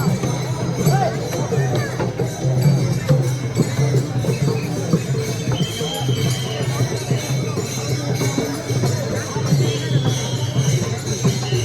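Dense hubbub of a large crowd of pilgrims gathered for Mauli's departure procession (prasthan), steady babble of many voices with scattered clinks and shouts, close and continuous throughout.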